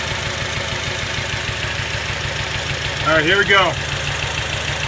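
An Acura engine with a misfire idles under the hood, a steady loud pulsing rumble, while someone speaks briefly near the end.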